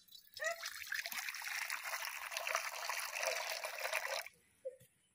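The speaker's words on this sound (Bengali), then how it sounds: "কড়ার মধ্যে জল দিয়ে দেব।" Water pours into a kadai in one continuous trickling stream for about four seconds, fairly close, then stops, followed by a small splash and near silence.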